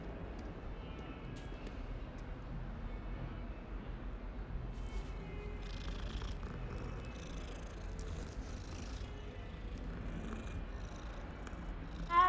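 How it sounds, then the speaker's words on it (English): Steady low purring from a cat being petted in Hogwarts Legacy, a soft continuous rumble lasting throughout, with faint clicks and light rustling over it and a brief louder bump at the very end. "My cat is just watching me pet another cat."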